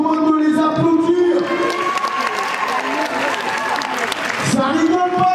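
A crowd at a breakdance battle event gives loud applause and cheering for a winning dance troupe. The clapping is dense and sustained, with whoops and shouts and some voices mixed in.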